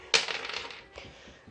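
Dice rolled during a tabletop wargame: a sharp clattering impact, then a short rattle as they tumble and settle, one final small click, close and alone.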